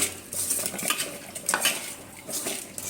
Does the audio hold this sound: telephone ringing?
no